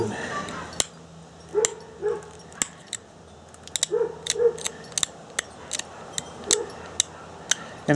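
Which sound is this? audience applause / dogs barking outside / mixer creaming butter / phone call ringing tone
dogs barking outside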